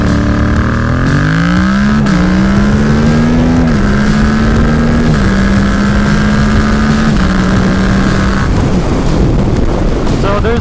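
A Yamaha MT-07 motorcycle engine revs up loudly and close, its pitch climbing in stepped surges before holding high and then dropping back.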